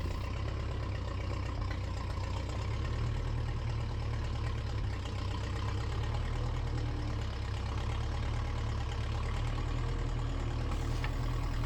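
A 1958 Massey Ferguson 35 tractor engine runs steadily at close range, a continuous low diesel rumble with a mechanical chatter that stays level throughout, with no voices.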